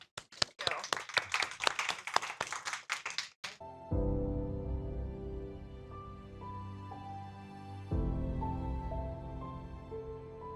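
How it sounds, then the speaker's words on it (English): A round of applause from a conference audience, a few seconds of loud, dense clapping that stops abruptly as music with a deep bass line takes over. "give her a round of applause"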